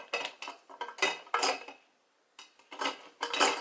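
Ciate Everyday Vacay Coconut Setting Powder packaging being pried and handled, a run of close crinkling, clicking and scraping bursts with a short pause in the middle, no talking.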